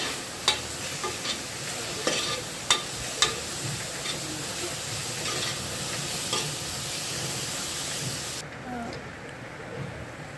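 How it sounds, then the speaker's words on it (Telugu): Grated carrot frying in ghee in a pan for carrot halwa, a steady close hiss and sizzle with a few sharp scrape-and-knock stirring hits early on, continuous and fairly loud. "కొద్దిగా పచ్చివాసన పోయే టైపుగా మనం నేతిలో ఫ్రై చేసుకోవాలి"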